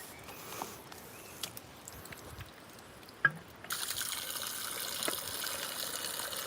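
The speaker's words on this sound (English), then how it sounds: "It's got a rain waterfall going here, guys." Rainwater trickles and drips down a small waterfall in an old churchyard and forest, with a steady flow that grows louder partway through.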